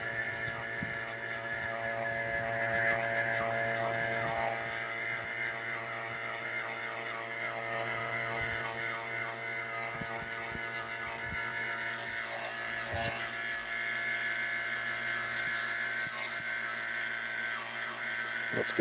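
A vacuum pump runs steadily in a small chamber setup as it pulls down toward full vacuum, a constant close mechanical hum with a buzzing whine, unbroken and alone at an even level.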